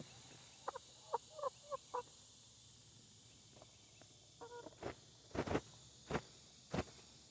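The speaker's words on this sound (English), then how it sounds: "Chickens. They're actually laying now." Quiet outdoor scene with soft clucking from laying hens in short bursts, followed by a few sharp knocks or taps, all fairly faint.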